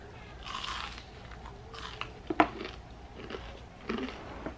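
A crunchy onion ring dipped in ranch is bitten and chewed close to the mic, with a few crisp crunches and crackles at a quiet level during a mukbang meal.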